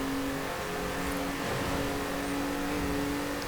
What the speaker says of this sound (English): it's a nice high revving V6 as well, or VR6